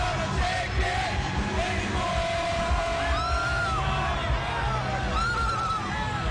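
A large crowd at a Donald Trump campaign rally cheers and yells continuously, with whoops and rising shouts over a dense, loud roar.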